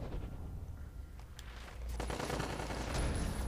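Gunfire in the video game Prototype 2, a steady rattle of rapid shots over a low rumble that grows louder and denser toward the end, with no speech.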